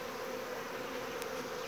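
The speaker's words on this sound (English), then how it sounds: "you see it looks like a swarm of bees behind me" A swarm of honey bees buzzes steadily in the air behind a calm beekeeper, a continuous hum from many insects at moderate distance with no talking.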